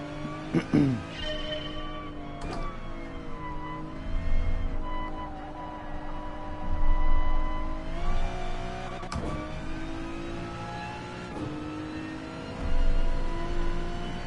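A GT3 race car in Gran Turismo Sport on the Dragon Trail circuit, its engine droning steadily with rising revs and gear shifts throughout, while someone talks over it.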